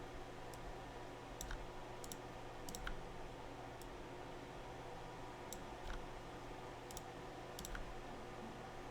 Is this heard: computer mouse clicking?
yes